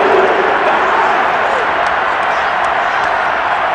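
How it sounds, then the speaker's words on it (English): Home crowd in Madden NFL 22 booing after a pass interference call during a Cowboys versus Saints game, a dense, steady roar of disapproval filling the stadium with no breaks. "Some boos coming down right now from this home crowd after that call"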